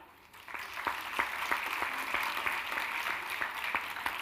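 Audience applause at a university convocation ceremony, a steady dense wash of many hands clapping with a few sharper individual claps standing out, rising quickly after a brief quiet start and holding level throughout.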